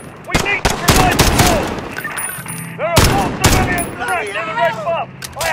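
Video game gunfire from Call of Duty: Modern Warfare, with loud, close shots cracking in quick clusters, then further bursts with brief gaps, mixed with voices and sweeping in-game effects.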